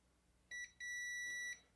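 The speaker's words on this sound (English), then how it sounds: "I'm in continuity mode, which beeps when our probes have a direct path" A multimeter set to continuity mode beeps with a clear, steady electronic tone while its probes touch a circuit board during soldering repair: one short beep, a brief gap, then a longer sustained beep, close and alone over a faint background.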